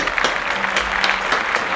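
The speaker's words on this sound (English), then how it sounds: "Clap it up. We needed to clap it up" Audience clapping and applause in a celebration of reaching a subscriber goal, a steady wash of claps with a few louder accents, no talking over it.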